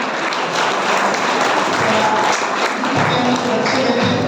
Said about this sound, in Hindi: एक बार तालियां सबके लिए।